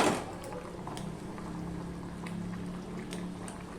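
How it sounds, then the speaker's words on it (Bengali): Fish curry gravy with spices bubbles steadily in a kadai, a continuous close simmering burble with occasional louder pops, no voices. "কড়াইয়ের গায়ের থেকে সব মশলাগুলো নিয়ে ঝোলটা ফুটে উঠেছে"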